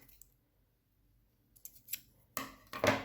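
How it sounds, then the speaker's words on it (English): Scissors snip the thread tail after a button is sewn onto fabric: a couple of quiet snips, then two sharper, louder cuts close by near the end, with no talk. "So now you can cut your tail off."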